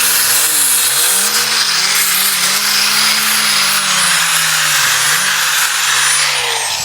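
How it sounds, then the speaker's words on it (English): A chainsaw rips through oak for a cabin build, a loud, close, continuous whine that dips and wavers in pitch as the chain bites into the wood. "how oak rips through with the chainsaw"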